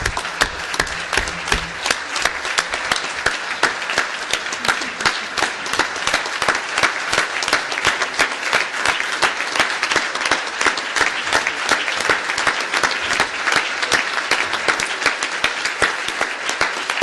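An audience at a human rights forum breaks into sustained, loud applause, dense clapping that runs evenly throughout without pause.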